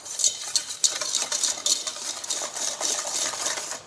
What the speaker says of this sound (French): Dans un saladier, nous allons fouetter les jaunes d'œufs et le sucre semoule jusqu'à ce que le mélange blanchisse